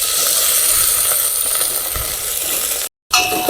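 Onions and coriander leaves fry in pure peanut oil in a village-style kitchen, a loud steady sizzle and hiss that cuts out briefly near the end before resuming.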